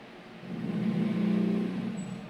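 A motorcycle engine idles and swells slightly in revs nearby, a steady low rumble lasting a couple of seconds with no speech.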